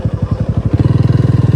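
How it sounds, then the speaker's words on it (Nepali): A motorcycle on a rough, unpaved off-road track thumps along with a rapid, regular engine pulse, close by and fairly loud after a choppier start. "बाइक जान्छ"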